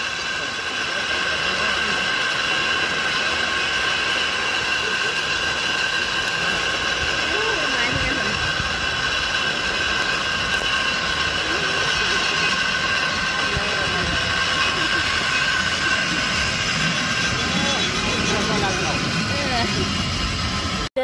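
A train climbs a hill near Lynton in England's valley country, its steady rumble and rolling rail noise droning continuously throughout, fairly loud, while people talk over it.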